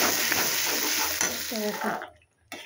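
Chicken curry with a little water added sizzles and bubbles in a pan at close range. The busy, moderately loud cooking noise cuts off abruptly near the end.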